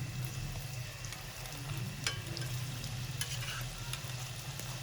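Jalapeño samosas fry in hot oil, producing a continuous close bubbling sizzle with scattered small pops and clicks from turning, and no one speaking.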